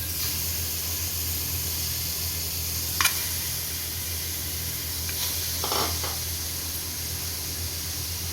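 Mutton sizzles in a kadai with a steady, low hiss that runs throughout, broken by a few faint clicks and spits.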